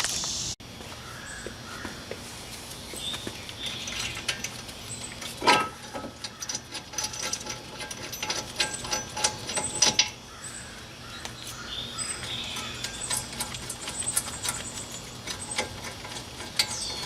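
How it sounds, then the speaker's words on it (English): Brake caliper bracket bolts being loosened on a car during a brake pad and rotor job, with ratchet clicks and metallic tool clanks in irregular bursts over a steady outdoor background, birds faintly audible. "take these two bolts loose"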